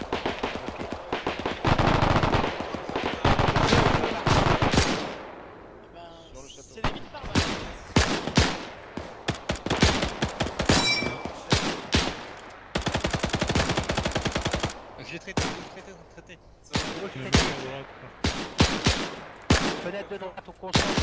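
In a World War II D-Day Normandy scenario in the video game ArmA 3, dense bursts of machine-gun fire and single shots come in loud clusters with short gaps between them, fairly close.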